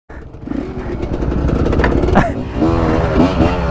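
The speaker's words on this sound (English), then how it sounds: "I really like this two-stroke." A two-stroke enduro motorcycle engine revs and rasps close by on a forest trail in Brazil, its pitch climbing and wavering under throttle while a rider's voice calls out over it.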